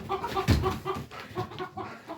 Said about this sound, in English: Ignore the chickens behind me.